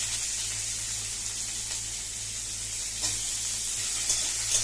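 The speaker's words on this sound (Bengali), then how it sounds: "শুকনো লঙ্কা গোটা গরম মশলাটা একটু ভেজে নিয়ে, আমি তাতে দিয়ে দিচ্ছি পেঁয়াজ কুচি।" Chopped onion hits hot oil with whole dried red chillies and whole garam masala, giving a steady, close sizzle that hisses evenly throughout with a few brief crackles.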